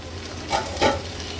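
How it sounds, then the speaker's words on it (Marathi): Onion cooking in a pan with a lid over a low gas flame, a soft continuous sizzle with two brief louder scraping surges from stirring, close and without speech. "ह्याच्यावर झाकण ठेवून हा कांदा शिजवून घेऊया"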